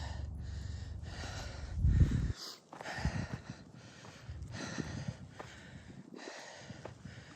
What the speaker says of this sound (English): the breathing under control.